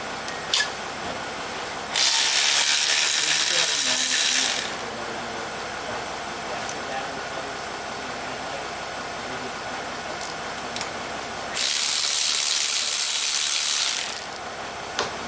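Ratchet clicking away at the engine motor mounts of a Subaru Forester with a boxer engine, two loud sustained bursts of rapid ratcheting separated by a quieter stretch of workshop background, no talk.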